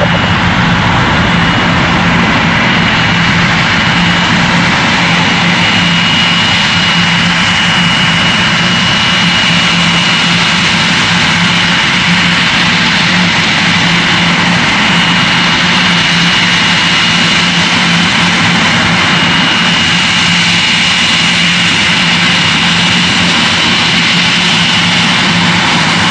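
A Cathay Pacific Boeing 747-412 takes off at Heathrow with a loud, continuous jet-engine roar. The deep, broad rumble holds steady and powerful for the whole stretch.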